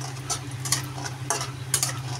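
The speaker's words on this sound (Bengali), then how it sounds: "দেখো তেলটা গরম হয়ে গেছে, দিয়ে দিলাম বড়িটা ভালো করে" Lentil bori fry in hot oil in a kadai over a very low gas flame, with a low steady bubbling hum broken by light irregular clinks and scrapes of stirring close by.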